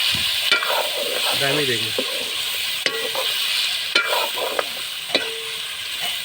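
Ginger, garlic and chili paste fries in a pan for a local chicken curry, giving a steady sizzle broken by sharp scraping stir strokes at regular intervals, while a voice briefly speaks.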